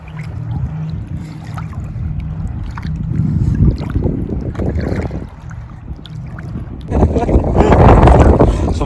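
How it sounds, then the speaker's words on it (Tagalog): A strong wind suddenly picks up around a small boat out crabbing, with a low rumbling buffet that swells and drops across the microphone. It grows loudest toward the end while people talk over it. "Biglang lumakas yung hangin."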